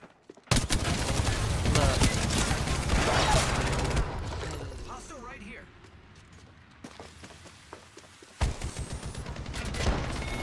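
Gunfire in the video game Apex Legends, with loud rapid bursts of automatic shots followed by a quieter stretch and then more sharp shots, mixed with game sounds and a player talking.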